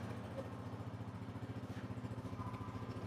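A used 2013 Honda 125 motorcycle engine idling nearby, a steady low, even pulsing thump with a faint mechanical clatter, running alone without talk.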